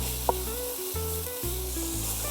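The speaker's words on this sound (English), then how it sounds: "we're going to add our onions, celery, carrots, of course your garlic" Onions, celery, carrots and garlic sizzle in olive oil in a pan, a steady soft frying hiss over a low, constant kitchen hum, with a brief clink near the start.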